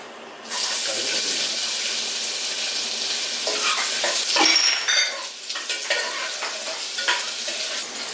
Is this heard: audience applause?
no